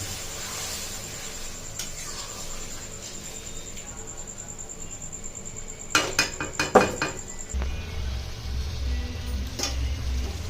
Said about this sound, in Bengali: জল দিয়ে আবার নাড়তে থাকবে